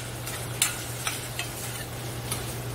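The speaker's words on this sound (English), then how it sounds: "continue to saute it until" Shrimp sauté in a hot pan with a steady sizzle, broken by a few sharp utensil clinks and scrapes as the pieces are stirred, close and moderately loud.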